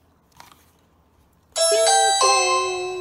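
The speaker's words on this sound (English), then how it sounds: "So that's a doorbell." A Ring Video Doorbell 2 chime plays a bright two-note ding-dong, loud and close, ringing out after a quiet moment with faint background sound.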